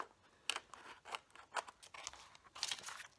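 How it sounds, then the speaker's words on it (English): A series of short, crisp snips from small scissors cutting paper, irregular and close, with a few quieter rustles between cuts. "Finally, I picked up some small scissors"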